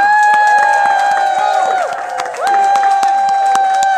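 An audience cheers and claps at a Renaissance faire show, with rapid scattered handclaps and crowd noise under a loud, steady sustained tone that holds throughout.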